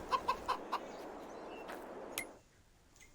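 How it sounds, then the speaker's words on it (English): Chickens and roosters in the Farming Simulator 22 farming game cluck in several quick close bursts, followed by a softer stretch and a final short cluck, with no talk. "so that's giving us 125 chickens when you're counting the chickens and the roosters."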